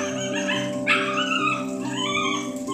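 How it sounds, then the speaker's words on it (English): A Siberian Husky vocalizes up close, giving drawn-out whining, yipping howls that rise and fall in pitch over a steady background tone, with no talking. "She's the most vocal of all of our Huskies."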